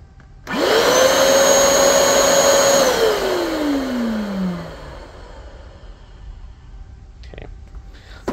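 A vacuum cleaner starts with a rising whine, holds a loud steady roar for a couple of seconds, then winds down as its pitch drops away, followed by a few faint clicks.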